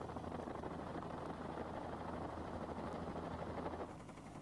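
A helicopter hovering out of ground effect, its steady broadband rotor and engine roar held continuously without pause, fairly loud and even throughout.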